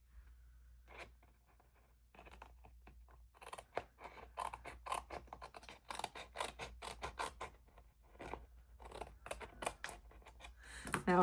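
Scissors trimming small paper pieces for a scrapbook album, a quick series of crisp snipping cuts in bursts, close and clear over a quiet room with no talking.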